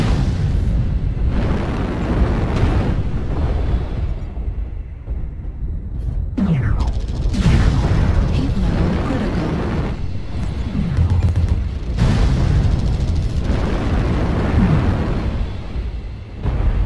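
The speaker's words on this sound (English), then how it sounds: "Warning, incoming missile." Muffled missile explosions in the MechWarrior Online mech combat game, several deep booms and rumbling bursts spaced across a dense, continuous battle din.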